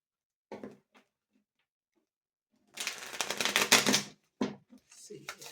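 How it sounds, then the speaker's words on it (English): Tarot cards are shuffled in a dense burst of riffling and flicking, with shorter bursts of handling afterward; a voice speaks briefly before it. "I'm going to shuffle the cards a bit."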